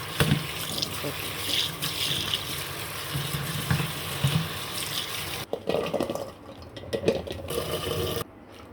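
Chopped arum leaf stalks are washed under a running kitchen tap, water gushing steadily into the sink for several seconds before the flow cuts and then resumes briefly.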